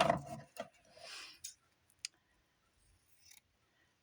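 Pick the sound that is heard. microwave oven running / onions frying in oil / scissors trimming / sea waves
scissors trimming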